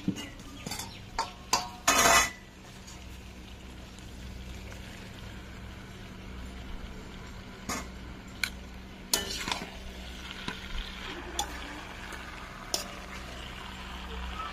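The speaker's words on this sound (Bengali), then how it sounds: "তো আলু পটল দিয়ে দিয়েছি, আলু পটল কিছুক্ষণ কষে নেব সুন্দর করে" Potato and pointed gourd stir-fried in a pan, with intermittent spatula scrapes and clanks against the metal over a low steady sizzle, a loud burst of scraping near the start, no talk.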